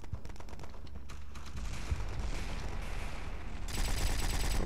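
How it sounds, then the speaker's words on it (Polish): Teammates firing steadily in the online shooter Red Crucible Firestorm: a continuous, loud rattle of overlapping gunshots and bursts, growing denser and brighter in the final second. "Dobra, tu nasi chyba cały czas strzelają, więc spoko."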